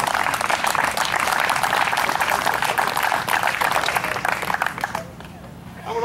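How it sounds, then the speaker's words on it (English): Vigorous applause from a wrestling awards banquet crowd, a full dense roar of clapping for the hosts that holds for about five seconds, then drops off abruptly to quiet room tone. "How about giving them a big round of applause"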